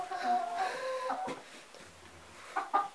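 A hen clucks and squawks inside a coop, a few uneven bursts of clucking close by, with quiet pauses between, fairly soft overall.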